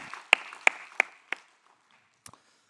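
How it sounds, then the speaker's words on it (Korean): Four loud, sharp hand claps in an even rhythm, then a pause and a quick final double clap, during a church worship service. "우리 하나님 아버지께 최고의 영광의 박수를 올려드립니다"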